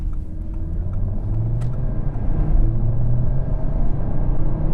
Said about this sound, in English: Man, you can really hear the turbo pretty good.